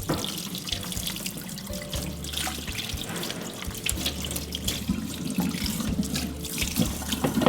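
A cobia fish rinsed under a running kitchen tap, with a steady splashing stream into the sink and faint handling noises, close and continuous with no talking.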